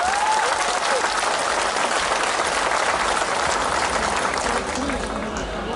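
A crowd applauds steadily to welcome a visiting Aam Aadmi Party MP at a public gathering, with dense, loud clapping sustained throughout and slightly easing near the end.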